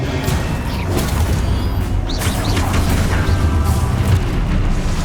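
Explosive spells burst repeatedly in a Hogwarts Legacy duel, loud booming crashes layered over dense continuous game combat noise, with no voices.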